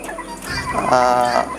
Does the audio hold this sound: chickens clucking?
yes